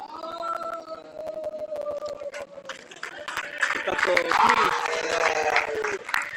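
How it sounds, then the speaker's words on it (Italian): Football fans applaud at an amateur Sicilian Promozione league match on the final day of the season. The clapping swells in the second half, mixed with crowd noise under a commentator's continuous voice. "Un meritato applauso da parte dei tifosi"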